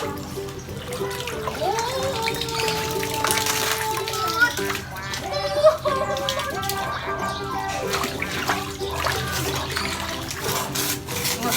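Water pumped into a large 5-foot backyard pool, splashing and trickling steadily under excited children's voices talking and shouting throughout.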